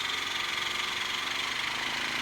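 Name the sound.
Traxxas Revo 3.3 nitro RC engine turning over while primed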